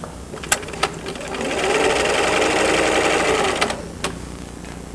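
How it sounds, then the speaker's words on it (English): A home sewing machine stitches a pants seam in one continuous run of about two seconds, a steady close mechanical whir framed by a few sharp clicks before and after. "sew that seam up so that we can finish"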